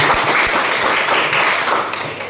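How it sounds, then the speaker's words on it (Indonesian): A classroom group of students claps for a presenting team during a mathematics lesson on matrix inverses, a short burst of brisk, close applause with a few sharper individual claps. "tepuk tangan dulu untuk kelompok"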